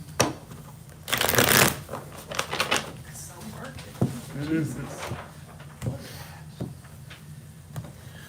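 Tarot cards are shuffled close by in several crisp riffling bursts, followed by softer taps and flicks as a voice talks quietly.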